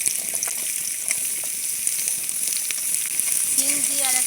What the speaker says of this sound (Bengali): এবার আমি সিম দিয়ে দেবো।